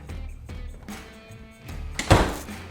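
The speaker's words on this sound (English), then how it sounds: "I'm gonna close the door." An indoor door is pushed shut with a single firm thunk near the end, preceded by faint rustling and movement in a quiet room.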